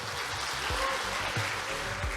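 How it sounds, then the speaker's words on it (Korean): At the opening ceremony of the 2025 Kim Dae-jung Peace Conference, the audience claps with quiet, steady applause that sounds far off and fills the whole moment. "뜨거운 박수 부탁드리겠습니다"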